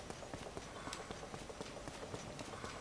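In Zelda: Tears of the Kingdom, a horse's hooves clip-clop in a quick steady rhythm, faint and even throughout.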